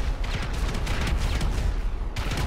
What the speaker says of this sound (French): Je vois des explosions à côté de moi.